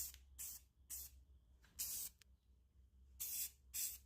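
Aerosol spray paint can sprayed onto a napkin craft project indoors, six sharp hissing bursts of varying length with short pauses between, close and fairly quiet, no voices.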